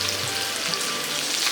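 Chicken pieces pan-fry in oil for pepper chicken, a steady, dense sizzle with fine crackling spits that stays even and close, with no voices over it.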